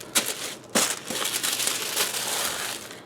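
Wrapping paper printed with cats is crumpled and torn close up, with a few sharp rips followed by continuous crinkling and rustling.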